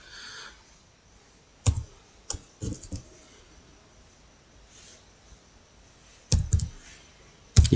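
Scattered keystrokes on a computer keyboard while entering a captcha into an online application form, a few isolated clicks and short bursts separated by quiet gaps, close and fairly faint, with no talking.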